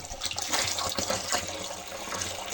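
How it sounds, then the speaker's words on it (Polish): Water runs steadily from a garden hose while watering, a soft continuous splashing and gurgling with no voices, fairly quiet and close. "i leci powoli ta woda"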